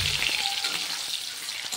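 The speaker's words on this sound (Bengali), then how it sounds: "এই তেলের মধ্যে আমি আলু দিয়ে নিচ্ছি।" Potato pieces frying in hot oil for an egg curry, giving off a steady, close, bright sizzle with faint crackles throughout a short stretch, with no talk.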